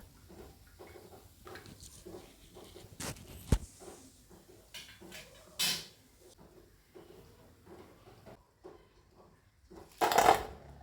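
Fried rava coriander bombs are drained of oil and moved onto a plate, making quiet scattered clinks and scrapes with a few sharper knocks, near and sparse with gaps of near silence.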